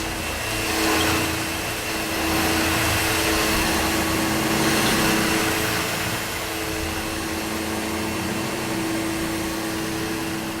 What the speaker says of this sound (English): Every inch of this vacuum cleaner is functional.